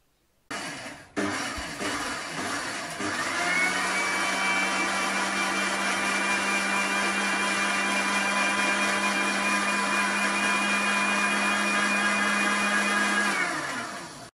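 A kitchen grinder steadily blends curry leaves for onion chutney, starting with a brief whir, then settling into a loud, continuous motor drone that holds for about twelve seconds before cutting out.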